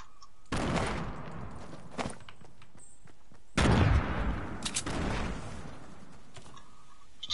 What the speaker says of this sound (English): He has that AK. He's shooting at me.